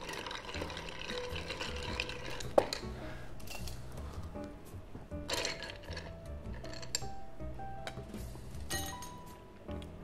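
Ice clinking and swirling as an almond old fashioned cocktail is stirred in a mixing glass to chill and dilute, a soft continuous rattle with occasional sharper clinks over background music.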